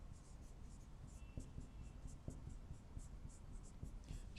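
Pen strokes scratch across paper in quick, short bursts as numbers are written out during a maths lesson, faint and close against a low steady hum.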